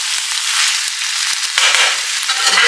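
Ground beef, onion and corn hit a large frying pan, giving a steady, close sizzle with scattered crackles and soft scraping pops and no talking.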